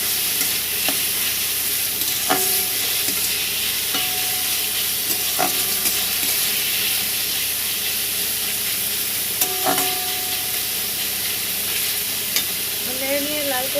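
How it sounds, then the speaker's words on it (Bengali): Onion frying in a pan and being stirred until it browns, for a homemade fish finger recipe: a continuous loud sizzle with intermittent scraping and knocking from the stirring utensil. "পেঁয়াজটাকে ভালো করে নেড়ে নেব, লাল করে নেড়ে নিয়ে আপনাদেরকে দেখাচ্ছি।"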